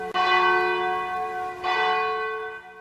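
Church bell used as a theater sound effect, two loud resonant strikes about a second and a half apart, each ringing out with a long sustained hum.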